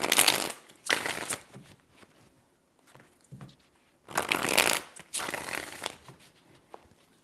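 Tarot cards are shuffled repeatedly up close, several loud papery riffling bursts separated by quiet gaps and small taps as the deck is squared between shuffles.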